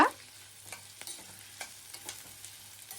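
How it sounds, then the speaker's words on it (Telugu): Onions fry in a pan for fried onions, giving a steady low sizzle with light scraping stirs scattered through it, quiet and close, with no voices. "ఇప్పుడైతే ఫ్రైడ్ ఆనియన్స్ కోసం అనేసి ఉల్లిపాయలు కూడా ఫ్రై చేస్తున్నా"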